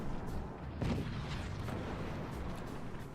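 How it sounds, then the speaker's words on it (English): Cannon firing in a video game, a heavy booming blast followed by rumbling, echoing reports that fade over a few seconds. "Oh, the third cannon, you could do it? There it is."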